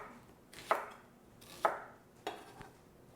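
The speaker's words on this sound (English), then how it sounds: "you want to cut your vegetables a little bit smaller in order to render out all of the flavor out of them" Three crisp knife chops strike a cutting board as vegetables are cut for stock, evenly spaced about a second apart, close and clear in a quiet kitchen.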